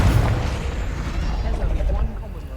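Confringo spell explosion in the video game Hogwarts Legacy: a loud, deep boom with a rumbling burst that decays over two seconds, with a voice speaking over it.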